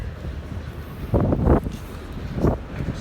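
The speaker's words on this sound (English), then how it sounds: "today here on these Greek Isles it's extremely windy all weekend actually" Strong wind gusts buffet a microphone in a harbor on a Greek island with ships moored nearby, a low rumbling roar that swells in two louder bursts over steady background noise.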